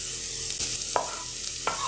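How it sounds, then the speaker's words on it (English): Chopped onions sizzle loudly in a hot pan, a constant hiss broken by a few clicks and scrapes of stirring. "But first, I'm going to go ahead and take the onions. Put them in. Hear that sizzle?"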